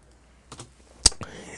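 Computer keyboard keystrokes while working in the Hangul word processor, a few scattered clicks with one sharp louder tap and a short burst after it, close and otherwise quiet.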